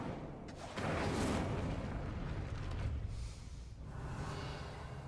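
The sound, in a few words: Incendio fire spell in Hogwarts Legacy video game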